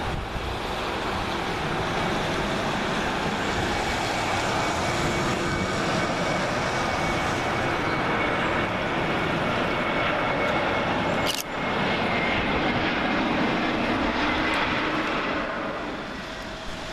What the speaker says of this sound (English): Lufthansa Airbus A321-231, registration Delta Alpha Indigo Sierra Juliet, working flights LH942 from Frankfurt